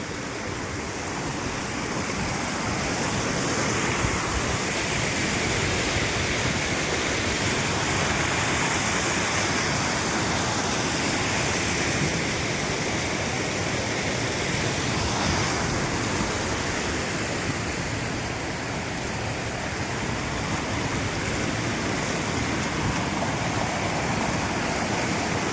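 A waterfall pours steadily, its dense, broadband rush of flowing water continuous and loud throughout, with no voices over it.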